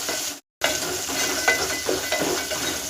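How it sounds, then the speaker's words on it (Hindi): Green peas and chopped green chillies fry in hot oil with cumin, a steady close sizzle with light stirring scrapes, briefly cut to silence near the start. "अब तेल में मटर को फ्राई कर लेंगे।"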